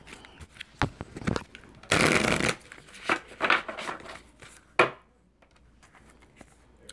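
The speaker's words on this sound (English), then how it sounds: "I want to shuffle these a little bit." Butterfly oracle cards being shuffled by hand: several riffling bursts, one long and loud, mixed with softer card taps and slaps, close and with no talk.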